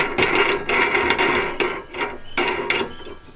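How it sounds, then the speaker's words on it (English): A wing nut is twisted down on a padded clamp on a Toyota Hilux, giving close, loud scraping and ratcheting turns in a few short bursts with brief pauses. "if you tighten this wing nut down"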